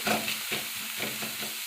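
Dhapate flatbread batter sizzling on a hot oiled tava, a steady close frying hiss with soft crackles and a few faint scrapes, no voices.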